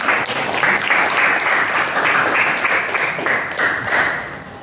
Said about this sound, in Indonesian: Tepuk tangan untuk Damar.